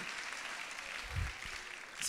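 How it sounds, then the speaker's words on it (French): Audience applause at a regional religious assembly in Rennes, a short, moderately faint burst of clapping from the gathered crowd with a brief low thump partway through. "On l'applaudit quand même."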